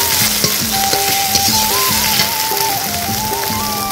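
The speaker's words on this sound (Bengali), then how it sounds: "তো চলো এখন মশলাগুলো ভালোভাবে কষিয়ে নিই" Onion paste and spices frying in oil, a loud, dense, steady sizzle with crackling pops throughout, while faint background music plays underneath.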